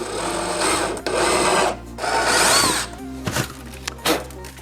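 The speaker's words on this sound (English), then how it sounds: "Next I'm gonna drill out all of these holes first" A power drill bores bolt holes in a workshop dust extraction project, running in several sustained bursts with grinding, rasping bites into the material and brief pauses between holes.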